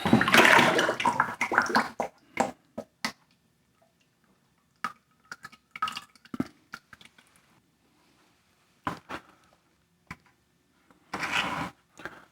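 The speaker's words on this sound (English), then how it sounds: "So there's the slip bucket, and we're just gonna dump it in." Liquid clay slip dumped from a bucket into plaster molds for slip casting, beginning with a heavy gushing pour, then scattered splashes, drips and short sloshing bursts separated by quiet gaps.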